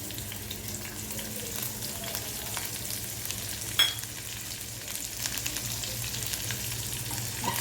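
Lentils fry in hot oil in a pan, giving a dense, steady sizzle with crackling pops and a brief sharp spatter, heard close up and alone.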